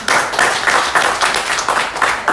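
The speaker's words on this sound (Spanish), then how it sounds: "denle un fuerte aplauso a ver" Rhythmic group clapping fills a religious gathering, with sharp, regular beats in unison repeating about twice per second, close and loud.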